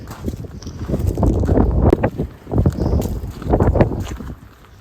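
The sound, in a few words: wind blowing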